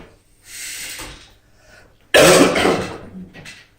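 Two rough coughs, the first softer, the second a loud harsh burst, with quiet pauses around them.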